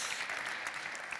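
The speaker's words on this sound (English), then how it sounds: "Quick round of applause for Jenny" Brief, faint round of audience applause at a digital industry conference, a soft patter of many hands clapping in a large room.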